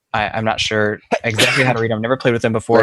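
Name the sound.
sneeze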